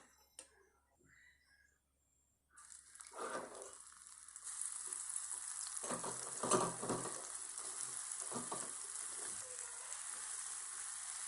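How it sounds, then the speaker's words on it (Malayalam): Cauliflower pieces fry in hot oil with a loud, steady crackling sizzle. It begins abruptly after a quiet start and carries a few louder bursts as the pieces are moved. "ഞാൻ എല്ലാ കോളിഫ്ലവറും വറുത്ത് പോരുകയാണ്."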